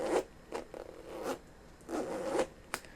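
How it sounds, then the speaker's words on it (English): A metal zipper on a Converse Shai 001 sneaker is zipped back and forth in several short, close rasping strokes with brief pauses between them. "And the zipper is a nice durable zipper."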